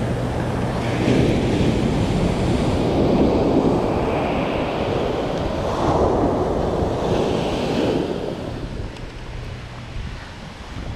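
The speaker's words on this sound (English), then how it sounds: "I'm trying to get behind this coming wave right here." Ocean surf rolls and breaks on a beach at Cabo San Lucas in a continuous loud wash, with gusting wind buffeting the microphone throughout and no voices.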